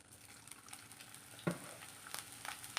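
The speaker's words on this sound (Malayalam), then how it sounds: "നമുക്കിതൊന്ന് വറുത്തെടുക്കാം" Grated coconut, chillies and curry leaves fry in coconut oil, a quiet steady sizzle with soft crackles and a few sharper pops, heard close with no talking.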